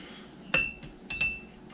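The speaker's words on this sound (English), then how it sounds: "Take my spoon," A spoon fills cups with cheesecake crumble, striking the glass in four sharp, bright clinks spaced irregularly across a quiet background.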